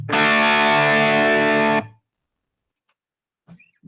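A PRS dual-humbucker electric guitar on its bridge pickup, played through a Helix amp model at higher gain, rings out as one loud, saturated distorted chord that sustains nearly two seconds, then cuts off to silence.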